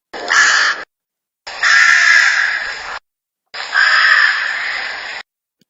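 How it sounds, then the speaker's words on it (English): A big black rook gives three loud, harsh caws from close by, each drawn-out and rasping, separated by brief silences. "Suddenly, a big black rook came flying down from a nearby fir tree."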